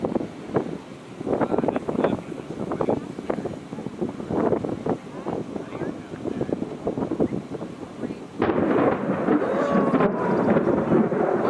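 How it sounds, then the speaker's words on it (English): Thunder from lightning near a wall cloud outside Bray, Oklahoma, a broad rolling rumble that swells near the end, mixed with gusting wind buffeting the microphone. "That wasn't too far. That lightning."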